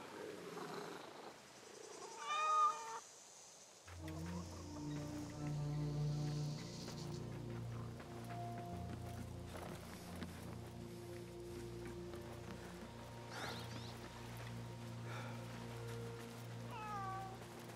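A cat in the game Assassin's Creed Mirage meows, with a couple of distinct meows heard near the start and end over soft background music.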